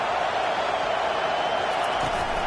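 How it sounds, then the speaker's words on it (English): Stadium crowd roar from a College Football 25 video game, a steady, loud, dense wash of cheering noise with no distinct voices standing out. "Listen to this crowd."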